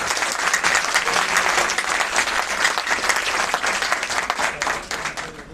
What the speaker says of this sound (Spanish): un fuerte aplauso y gracias por estar con nosotros